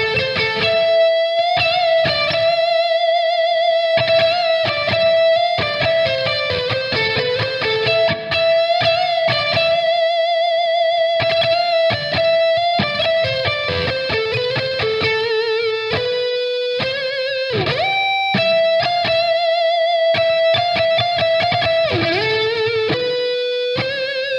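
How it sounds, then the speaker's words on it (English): High-gain electric guitar lead played through a Blackstar St. James amp with reverb added, with sustained distorted notes, bends and runs ringing loud and continuous. "Can we throw a little bit of reverb on the high gain and maybe check out some lead stuff?"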